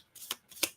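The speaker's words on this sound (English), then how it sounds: "Here we go. Shuffle, shuffle, shuffle." A deck of game cards being shuffled by hand, two quick riffling bursts in close succession, crisp and near in an otherwise quiet room.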